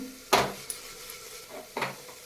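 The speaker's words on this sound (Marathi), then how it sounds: "जोपर्यंत फोडणीचा वास छान येत नाही तोपर्यंत आपल्याला ही फोडणी छान अशी खमंग भाजून घ्यायची आहे" Phodni tempering for dal palak bhaji roasting in a pan, with two sharp bursts of sizzle and spoon-against-pan clatter over a quiet background hiss, heard close up without speech.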